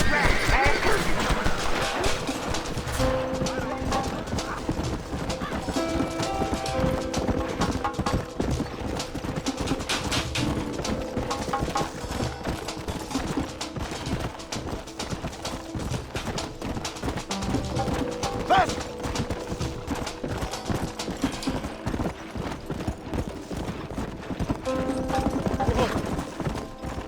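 Horse hooves clip-clop steadily alongside mechanical rattling and a brief whinny in a Red Dead Redemption gameplay scene, with voices and dense background game sound throughout.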